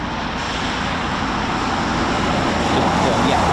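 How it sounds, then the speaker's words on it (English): A Eurofighter Typhoon FGR4 jet taxiing at RAF Coningsby, giving a steady broad engine roar and hiss held at an even level throughout, with possible faint voices underneath. "this Typhoon that's taxied out there"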